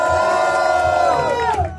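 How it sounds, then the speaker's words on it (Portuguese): Roaring crowd at a rap battle final in Foz do Iguaçu cheers and yells for rapper Nanda, a loud, continuous wall of shouting and whoops that holds steady before easing off at the close. "Com muita energia, barulho para as rimas da Nanda."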